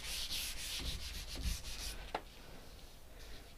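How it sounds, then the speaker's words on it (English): Paint being sanded off a wooden radiator cover by hand, close and steady in rhythmic rubbing strokes that stop after about two seconds, followed by a single small tap and quiet. "sanding off the paint"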